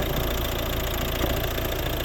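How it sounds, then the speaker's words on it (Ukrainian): A 2012 Volvo 1.6 D2 diesel engine idles steadily with an even, continuous mid-to-low rumble and light knocking texture, close by and with no talking. "Ось робота двигуна."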